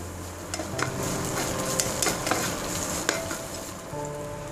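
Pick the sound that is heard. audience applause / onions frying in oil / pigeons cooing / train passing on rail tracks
onions frying in oil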